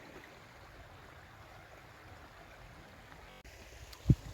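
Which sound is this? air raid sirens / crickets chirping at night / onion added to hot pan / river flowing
river flowing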